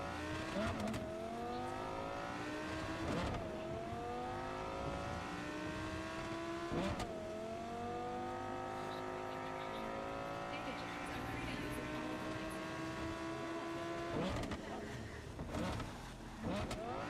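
Car engine in the video game Cyberpunk 2077, repeatedly revving up through rising gear sweeps with brief shift breaks, loud and continuous with a voice talking over it.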